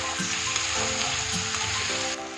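Chopped spring onion greens fry in oil for Wai Wai egg noodles with a steady, loud sizzle. A few soft stirring scrapes come through, and there is no talk.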